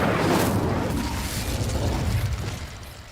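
Incendio fire spell cast in a Hogwarts wizard game: a loud, close burst of whooshing flame with a booming low-end hit up front, then a roaring crackle that slowly fades over three seconds.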